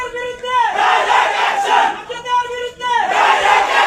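Local young men on a protest march against drug dealers chant slogans in unison, loud massed voices rising and falling in repeated call-like phrases, close and filling the air.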